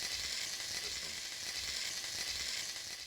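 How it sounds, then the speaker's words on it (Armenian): Chopped onion hits frying pork in a pan, a dense, steady hiss of sizzling fat that holds level for a few seconds with no talk. "Ավելացնում ենք կտրատած սոխը,"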